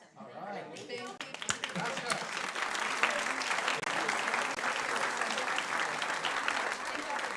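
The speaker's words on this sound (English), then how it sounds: "Round of applause for those gentlemen." Applause at a city council meeting after a mariachi band from Infinite Days Academy, a dense burst of crowd clapping that starts abruptly and stays steady for several seconds.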